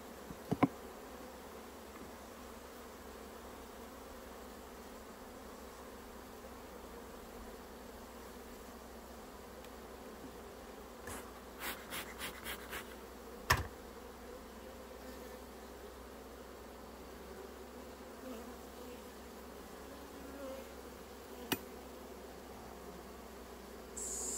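Honeybees buzzing during a beehive inspection, a faint steady hum under scattered sharp clicks and knocks from handling the frames.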